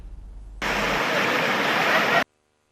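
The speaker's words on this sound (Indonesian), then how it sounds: "Meluncur bebas menuruni bebatuan dengan air yang mengalir deras di kaki Gunung Rinjani begitu menyenangkan." Fast water rushes down over rocks at the foot of Mount Rinjani, a dense, loud roar that starts abruptly, holds steady for about a second and a half, then cuts off.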